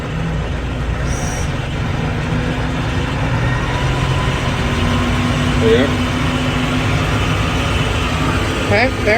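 A New Holland tractor running a mower through its PTO, a loud, steady engine drone with mechanical whine throughout, while a person speaks briefly over it.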